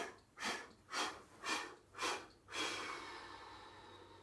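Five rhythmic, close breaths pass through the nose during a slow chi kung Pilates move, each a soft rushing swell about half a second apart, the last one drawn out and fading.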